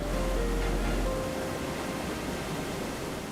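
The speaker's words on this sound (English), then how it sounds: "The sound of rushing water and the mist rising from the falls." An Amazon rainforest waterfall rushes with a steady, dense roar of falling water, loud and unbroken throughout.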